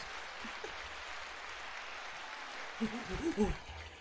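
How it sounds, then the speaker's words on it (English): Audience applause following a Transformers: Beast Wars episode discussion, a steady broadband wash of clapping throughout, with a few louder bursts and a voice near the end. "Applause."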